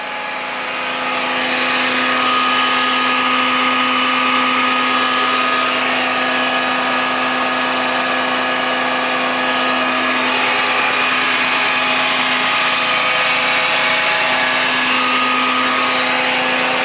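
The power take-off on a 2021 Ram tow truck runs with its relay grounded, a loud, steady mechanical whine and hum that rises quickly and holds constant at close range with no talking.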